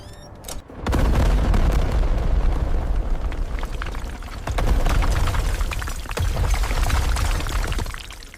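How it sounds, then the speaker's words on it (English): A construction blast detonates on a bridge project, opening with a sharp crack and then a loud, sustained roaring rumble of debris and echoes that surges again midway before slowly fading. "Detonation in 30 seconds."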